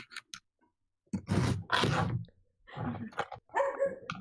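A household dog barks in a few sharp, fairly close bursts separated by quiet gaps, heard faintly over an online voice chat.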